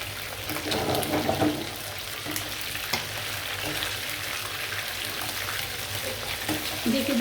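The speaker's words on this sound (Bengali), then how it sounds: "আমি অল্প তেলে ভাজছি" Chicken pieces shallow-frying in a small amount of oil, giving a soft, steady sizzle and crackle close by with a few brief stirring bursts, no one talking.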